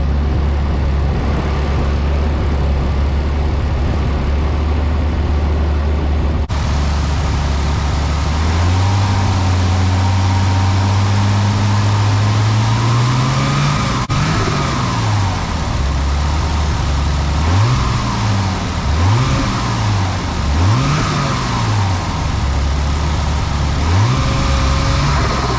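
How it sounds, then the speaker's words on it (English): A Nissan 300ZX drift car's engine turns over and catches, settles into a loud, close idle, then is blipped through a series of sharp revs rising and falling, with no talk. "it revs. First start after cleaning our plug."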